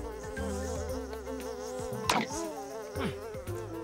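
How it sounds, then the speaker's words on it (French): Flies buzz close by in a steady, continuous drone with no talking, an insect sound in an animated scene about a young pterosaur that cannot yet fly. "Si je veux pouvoir attraper ces mouches,"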